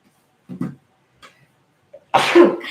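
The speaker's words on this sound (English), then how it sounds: "Y'all know I sneeze like a million times." A person sneezes once, sharp and close, after a few faint breaths and small sounds.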